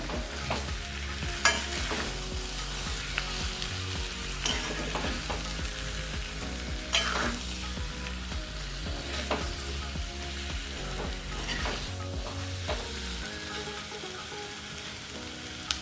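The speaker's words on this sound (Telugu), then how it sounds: "ఇప్పుడు మనము కొత్తిమీర తరుగు వేసుకొని ఒకసారి బాగా మిక్స్ చేసుకుందాము" Taro root masala fry with chopped coriander is stirred in a pan. Continuous close sizzling carries repeated scraping strokes of the spoon, with a low hum beneath most of it.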